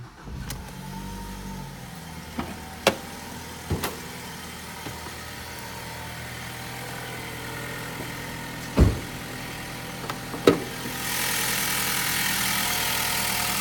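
A 2016 Ford Focus with a 2.0-liter four-cylinder engine idles at a low, steady hum while several sharp clicks and knocks sound nearby, and the background grows to a loud hiss toward the end.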